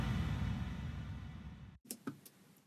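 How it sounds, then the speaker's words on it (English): A second impact kick layer in a music production, a deep, heavy boom with a long rumbling tail that cuts off abruptly, followed by a few faint, sparse clicks. "Then there is this one, which is the Impact Kick 2,"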